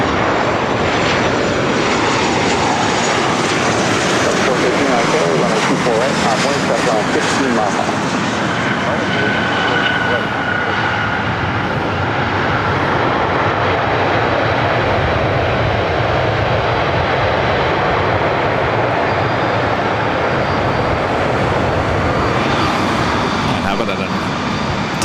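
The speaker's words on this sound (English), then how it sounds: "This next arrival is Southwest Airlines 189 coming in from Sacramento on a 737-800." A Southwest Airlines Boeing 737-800 arriving at LAX from Sacramento roars loudly and continuously, its engine noise swelling and sustained throughout, with people talking beneath it.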